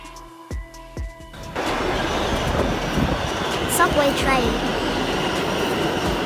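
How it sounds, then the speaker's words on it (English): An urban underground subway train rumbles loudly and steadily after a brief quieter moment with a few thumps, its broadband roar filling the space with faint wheel squeals mixed in. "Subway trains operate in urban underground rail systems, providing rapid transit within cities."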